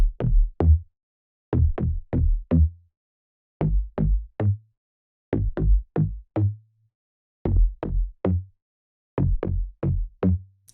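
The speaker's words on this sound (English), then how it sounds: "This next bass I picked is called Bass Fat," Bass Fat preset, a hard, deep tropical synth bass, plays short plucked notes in groups of three or four with clear gaps between the groups. The notes are dry and punchy and there is no talking.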